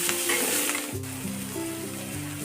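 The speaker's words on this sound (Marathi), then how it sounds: "खाऊची पाने चिरलेली टाकून घ्यायची फ्राय करायचे" Chopped betel leaves fry in a pan for Marathi thalipith, giving a steady, close sizzle throughout with a faint hum underneath and no voices.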